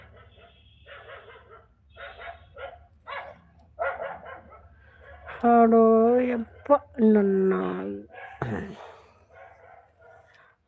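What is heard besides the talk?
dog barking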